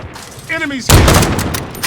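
Gunfire in a video game bursts in loudly after a brief voice, a dense rapid volley of shots that continues to the end, close and harsh.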